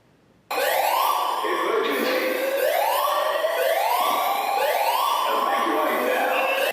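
A loud electronic alarm in a shopping mall starts abruptly and wails in repeated rising sweeps, continuous and piercing, with no voices over it.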